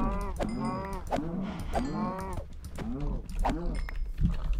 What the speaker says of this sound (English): we still have so many cows